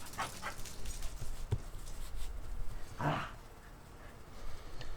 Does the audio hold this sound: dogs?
yes